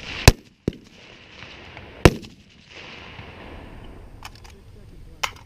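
Scoped service rifle fired in a timed string of shots: sharp, loud cracks spaced irregularly about a second or more apart, with fainter reports and a soft rumbling background between them.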